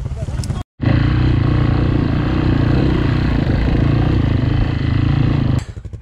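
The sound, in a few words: motorcycle engine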